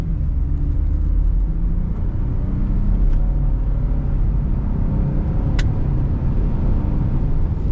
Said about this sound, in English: We'll just give it a little bit of gas.